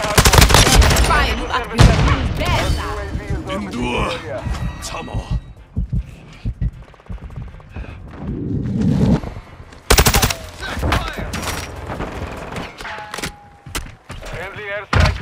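Rapid video game gunfire in a Juggernaut match, with loud bursts of automatic fire and single shots crowding the mix, plus game voices calling out over the shooting.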